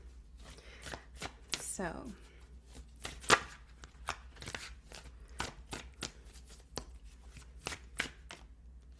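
A Mystic Tarot deck being shuffled by hand, with sharp rapid card riffles and taps in irregular bursts up close, and a voice briefly speaking.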